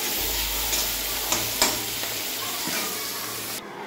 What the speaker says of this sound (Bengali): পটল ভাজা করছি আমি এখন